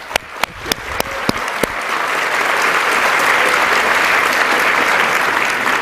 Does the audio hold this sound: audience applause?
yes